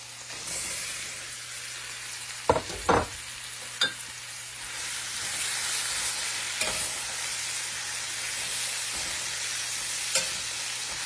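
Peeled, cored apples fry in butter with a soft, steady sizzle, broken by a few sharp clinks and scrapes of the pan nearby.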